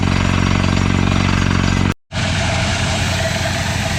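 A loud drilling rig pounds and roars with rapid percussive hammering, cutting out briefly midway before the heavy engine noise resumes.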